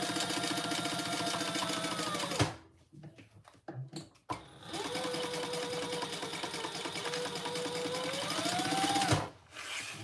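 A sewing machine runs steadily while stitching a fabric Traveler Pouch, humming loud and close, stopping for about two seconds of clicks and handling, then running again before a brief halt near the end.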